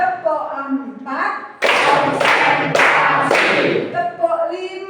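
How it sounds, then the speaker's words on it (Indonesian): A class of children at a school claps together in short rhythmic bursts, loud and close, with a teacher's voice and group chanting between and around the claps. "Tepuk 1. Tepuk 2. Tepuk 3. Tepuk 4."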